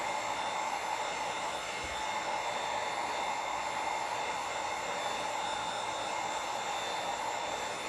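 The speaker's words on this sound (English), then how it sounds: "I use the heat gun on the lowest setting." Heat gun blowing on its lowest setting while packaging cold process soap, a steady airy fan whoosh with a constant motor hum, close and unchanging throughout with no talking.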